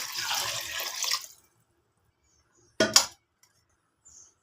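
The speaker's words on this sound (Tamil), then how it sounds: "இப்போ அளவு தண்ணி சேர்த்திக்கலாம்" A short burst of water splashing into a cooking pot of rice and lentils, about a second long, with clinking kitchen noise before it and quiet around it.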